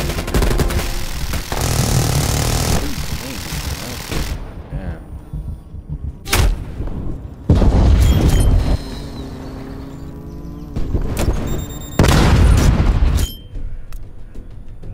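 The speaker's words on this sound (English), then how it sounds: "Incoming artillery." Artillery strike explosions in Call of Duty Cold War, set in a dirty bomb match: several loud, separate booming blasts land a second or two apart, with sharp impacts and rumbling tails between quieter gaps.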